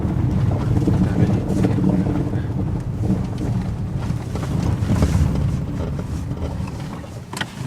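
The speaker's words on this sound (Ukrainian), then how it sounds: "Це, до речі, теж зараз вітер сильний." Strong wind roars and buffets the microphone continuously at a fire scene, with a rumbling engine and muffled voices underneath.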